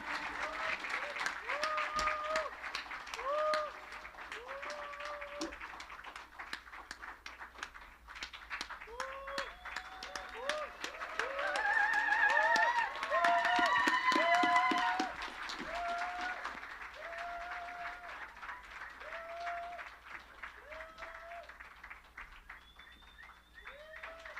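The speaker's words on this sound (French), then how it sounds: "ça vient pas, on les applaudit!" A congregation at a French-language Christmas church gathering claps for the choir, sustained applause rising and falling over about twenty seconds, mixed with cheering voices, whoops and a sung or shouted melodic line.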